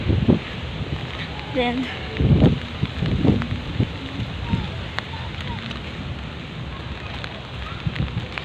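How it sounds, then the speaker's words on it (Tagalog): Strong wind and rain from a super typhoon beat around a pool in Lapu-Lapu City, Cebu, a rough, gusting roar with bursts of wind buffeting the microphone while a person speaks over it. "Ay, kasuga na sa hangin"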